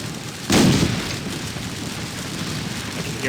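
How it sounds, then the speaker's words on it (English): Cannon fire in the Napoleonic battle game Scourge of War: Waterloo, a loud low boom rising sharply near the start and rolling on as a noisy rumble, with fainter distant reports continuing behind it. "I can hear our cannons firing."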